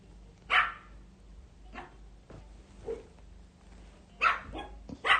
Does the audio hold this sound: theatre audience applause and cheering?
no